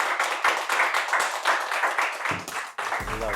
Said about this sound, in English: Guys, a round of applause for Jorge.